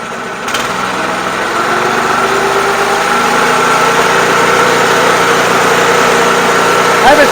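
A McLane Greens Keeper 25-inch commercial reel mower engine runs at raised throttle, around 3,600 RPM, a loud steady close drone that climbs just after the start and then holds even.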